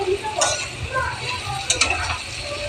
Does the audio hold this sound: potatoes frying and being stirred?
yes